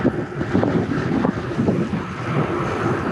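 Strong wind gusts buffet a microphone beside Burdur Lake, a steady rough roar that swells and dips throughout with no voices.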